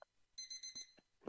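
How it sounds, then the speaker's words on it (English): Alarm clock ringing in short repeated electronic beeps, a quick steady pulse heard faintly indoors, with a few soft knocks around it. "I'm gonna go turn off the alarm clock in a sec."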